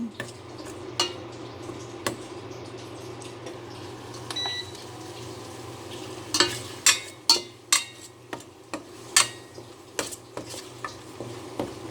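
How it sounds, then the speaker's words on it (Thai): Curry paste and shrimp paste being stirred and tossed in a pan, a low steady sizzle under a run of sharp utensil scrapes and clinks that quicken into rhythmic knocks toward the end. "กะปิ เราใส่ลงไปเลยแล้วก็คลุกเคล้าให้เข้ากันนะคะ ผัดไปมาจนเครื่องหอมนะคะ"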